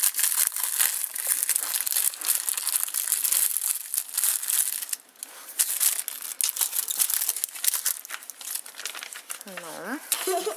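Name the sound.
plastic packet of a children's cookie modelling kit being unwrapped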